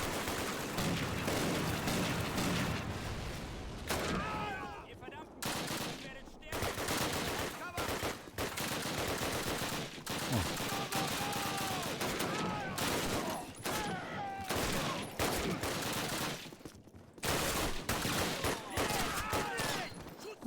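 Sustained bursts of mounted machine-gun fire in Call of Duty (2003), a loud, dense fusillade running almost continuously with brief gaps, under occasional voices.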